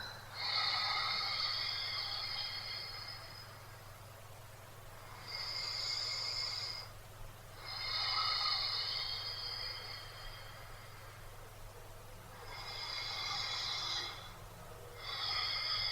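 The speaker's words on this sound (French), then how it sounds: "Prendre 3 grandes respirations." Deep breaths taken during a guided relaxation session, several slow, airy breaths heard close up, each one long and separated by brief pauses, over a faint low hum.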